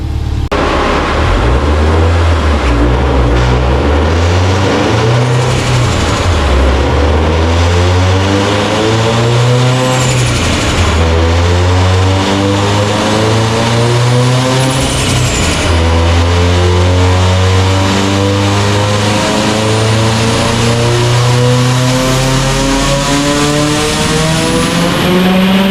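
A car with stock rods runs a dyno pull at 26 pounds of boost, its engine revving loud and close in long rising sweeps with a brief lift between them, and no talking.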